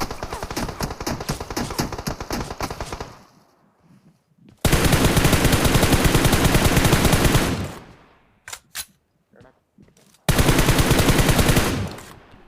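Automatic gunfire from the PUBG Mobile video game: a long rapid burst, a pause, a second sustained burst, a few single shots, then another rapid burst, all loud and close.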